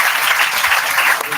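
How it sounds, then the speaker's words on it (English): A college audience at the NCRRACS 2024 event at Maris Stella College, Vijayawada, applauds the computer department faculty, a loud, continuous burst of clapping from a large crowd with faint voices underneath. "Give them big round of applause"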